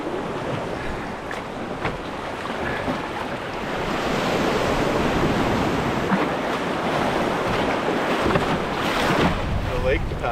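River water rushes steadily around a canoe on a run, a dense continuous wash of turbulent water close by, swelling slightly louder partway through, with wind buffeting the microphone.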